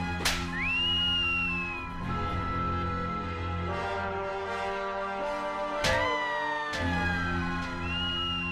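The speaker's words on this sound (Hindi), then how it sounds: "बंद कर सीटी बजाना, बंद कर।" A person whistles tunefully in a comedy-show scene, with long sliding, siren-like notes and brief pauses. The whistling is loud and continuous over a layered musical background for several seconds, with no talking.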